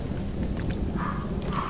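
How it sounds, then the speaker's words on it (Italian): Video game thunderstorm: steady heavy rain hiss with a low continuous rumble of thunder, filling the whole stretch evenly without pauses or voices. "No, ci sono ancora i fulmini."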